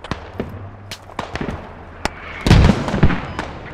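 Gunfire from the video game Squad during a large-scale US Army combined-arms assault in Afghanistan: scattered sharp shots crack near and far, building to a heavier burst of booming impacts midway through.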